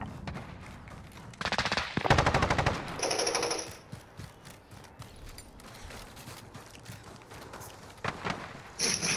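Bursts of rapid automatic fire from a Bruen MK9 rifle in a Call of Duty Domination match, loud sustained volleys early on, then scattered shorter shots and clicks with game effects between them.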